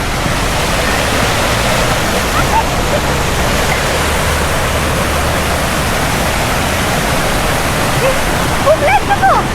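A river near a campsite by Bansko rushes in a dense, steady roar, loud and close, holding at an even level throughout.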